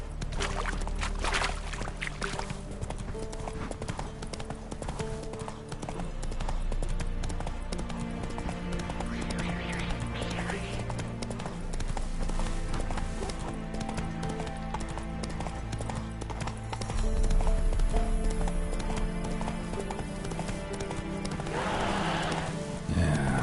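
The horse Roach gallops in The Witcher 3 video game, steady rhythmic hoofbeats running throughout under a game music score, with rustling and a brief splash-like burst near the end.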